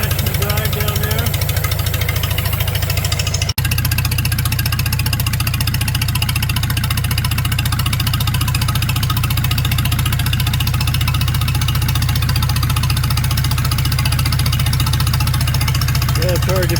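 A Palmer 60 VD marine engine with a reduction drive idles in forward gear, giving a steady, loud low-pitched throb that runs unbroken for the whole stretch, with a brief break in the middle.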